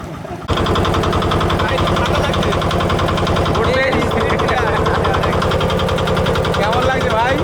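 A motor boat engine chugs loud and close on a river in the Sundarbans, a rapid, regular pulsing that runs steadily from just after the start to the end, with faint voices in the background.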